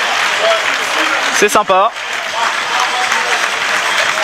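The French university women's rugby team applauds the crowd at a finale against China, a dense, loud, continuous clapping that carries on throughout, while a voice speaks briefly over it.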